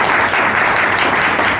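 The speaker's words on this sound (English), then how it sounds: "Please give them a round of applause." A loud, dense wash of audience applause at a business gathering, continuous and even throughout, close and without any voice over it.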